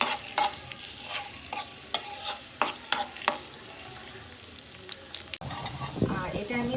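Onion and garlic fry in hot oil with a constant sizzle, and a spatula stirs with sharp scraping strokes at an uneven pace. A louder, denser sizzle follows toward the end.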